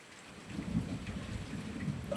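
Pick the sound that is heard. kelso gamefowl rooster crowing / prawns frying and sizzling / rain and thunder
rain and thunder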